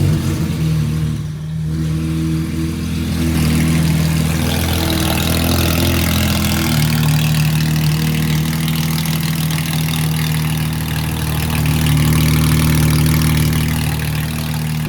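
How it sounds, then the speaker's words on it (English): A Porsche 992 GT3 RS fitted with an R1 Motorsport exhaust runs close by, its engine holding a steady, rumbling idle for about fifteen seconds, with a slight shift in tone partway through. "Let's get it started up real quick"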